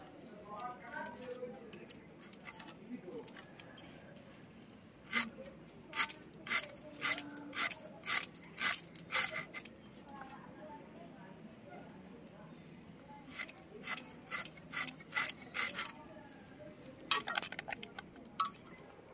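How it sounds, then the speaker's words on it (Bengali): A knife finely chops carrots on a board in quick, even bursts of crisp taps, in two runs with a pause between, fairly faint and close, with a voice heard at times. "মানে এরকম কুচিয়ে দেবো, একদম ধীরে ধীরে করে কুচিয়ে দেবো।"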